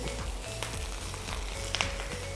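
Scallions and chili sizzle and crackle in a hot pan while being stir-fried for fried rice, a soft continuous frying hiss with light scraping, no talking.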